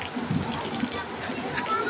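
Steady rain falling, a continuous hiss of drops with voices talking faintly underneath.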